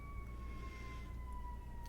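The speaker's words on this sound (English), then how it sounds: "Cue siren." A faint distant siren holds a steady wailing tone under low background rumble, heard alone without talk.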